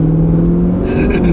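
A Corvette fitted with a ported throttle body and a Bluetooth throttle controller revs loudly up close in a brief, steady, droning burst.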